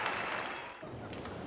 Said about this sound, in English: Crowd appreciating he's back on his feet.